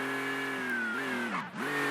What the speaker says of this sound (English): It's the Maserati MC20, not the MC12 but the MC20, and it's a pretty fast car